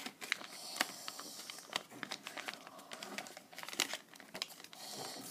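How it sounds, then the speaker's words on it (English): Origami paper being folded into an owl, with close, quiet crinkling and crisp creasing taps in irregular bursts, alone without talk. "now take the bottom and fold it up like that"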